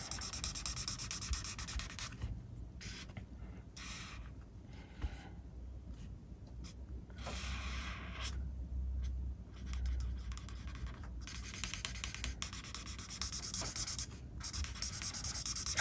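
Marker chisel tip scratching and rubbing across paper in repeated strokes, quiet and close, with short pauses between runs of colouring.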